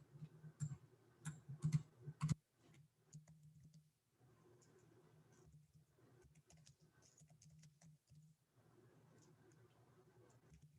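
Quick, light typing on a computer keyboard: a burst of clustered key taps at the start, then softer runs of patter with brief pauses, close and fairly quiet.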